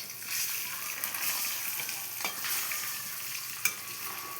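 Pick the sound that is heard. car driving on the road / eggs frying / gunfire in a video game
eggs frying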